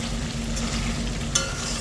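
Food fries in a pan while being stirred, a steady close sizzle and crackle as the added water cooks off, with one sharper scrape of the utensil near the end.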